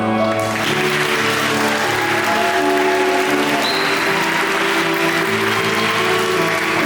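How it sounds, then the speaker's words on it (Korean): An audience at a wedding ceremony applauds the couple's bow with loud, sustained clapping that fills the room for the whole stretch, with faint music and crowd murmur blended underneath. "우리 인사할 때 큰 박수로 축복해 주시면 좋겠습니다."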